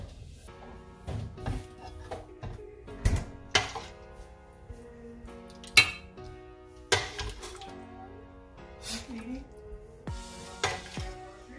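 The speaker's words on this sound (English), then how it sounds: "let's transfer it to the rectangle baking dish" Beef stew being transferred from a pot into a rectangular baking dish, with scattered clanks and scrapes of a spoon against cookware, soft wet plops, and a few sharper knocks, spaced irregularly at close range.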